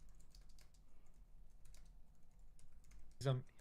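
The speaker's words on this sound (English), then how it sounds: "my keyboard is working again" Quiet, sparse keystrokes on a computer keyboard tap in the background, with one louder clack near the end.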